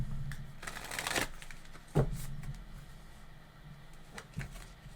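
Tarot self-care cards are shuffled close up in quick riffling bursts, with a soft tap and a few light papery rustles in between.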